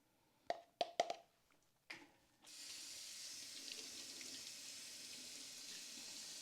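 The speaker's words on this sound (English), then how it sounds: "I'm giving my spatula a little rinse to encourage the rest of it to come out" A spatula gets a few quick clinks and taps, then a tap opens and water runs steadily and fairly loudly over it into a sink for several seconds, with no talking.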